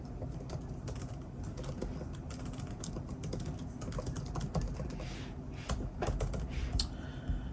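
Quick, irregular clatter of fingers typing on a computer keyboard, close and fairly quiet, in short bursts with brief pauses and no talk.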